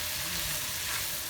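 Mushrooms with garlic stewing in a pot, giving a steady, soft, even sizzle and bubbling that runs without a break and without any voices.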